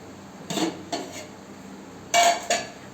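Soaked rice tipped into a pot of hot water for chicken biryani, heard as a few short metallic clinks and clatters of utensil against pot in two brief bursts, close and fairly loud with no talking.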